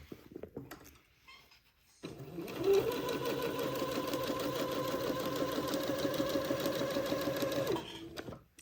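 A domestic sewing machine runs steadily for about six seconds, stitching basting threads along a strip of batiste, its rapid needle rhythm close and even, starting abruptly and stopping after a short quiet lead-in with faint handling noises.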